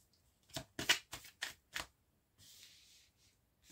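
Tarot cards being gathered up and covered after a reading: a quick run of five or six soft, close card slaps and shuffles, then a brief papery slide, all faint and without talk.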